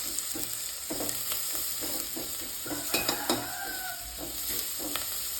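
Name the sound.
turmeric powder frying in oil for fish curry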